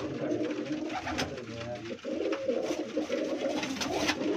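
Breeder pigeons coo in a low, steady murmur of overlapping calls, close by and continuous, with a few brief sharper noises on top.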